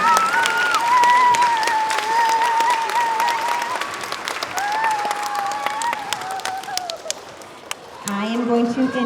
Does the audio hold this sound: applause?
yes